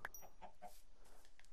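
A few chickens cluck close by in short, separate bursts, with soft clucks scattered over a quiet background.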